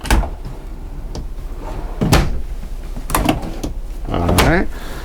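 Several short wooden knocks and slides of big cabinet drawers being opened and shut inside a 2017 Tiffin Phaeton 40AH motorhome, close by, spaced irregularly under a man's speech.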